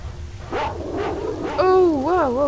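Aggressive dogs in S.T.A.L.K.E.R.: Shadow of Chernobyl give several sharp barks and yips, then a rising, wavering whine or howl, all close and fairly loud over a low game ambience.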